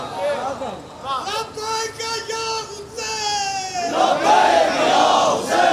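A crowd at a Muharram majlis in an imambargah loudly shouts a religious slogan in unison. The drawn-out chanting rises and swells, growing louder and fuller toward the end.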